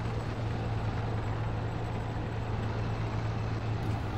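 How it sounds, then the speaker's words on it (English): A steady low engine rumble from tanks in a video game drones without pause, heavy vehicles idling or moving nearby with a constant hum. "Sound like tanks and possibly BMPs."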